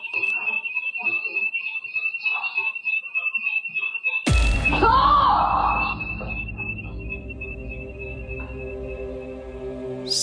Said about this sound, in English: Something sets off the alarm inside Britt's house